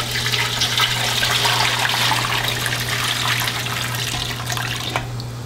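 Brining solution pours steadily over a turkey in a steel pot, making a continuous rushing, splashing sound that holds for about five seconds and then eases off. No one speaks.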